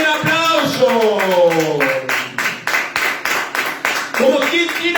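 Church congregation claps in rhythmic, evenly spaced beats, with speaking and shouting voices over the clapping at the start.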